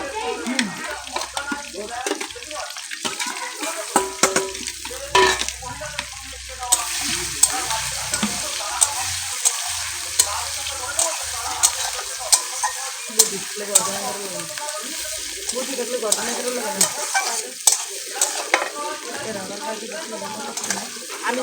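Meat stirred and sizzling in a pot over a fire at a village picnic, with steady scraping and frying noise throughout and occasional voices and water sounds in the background.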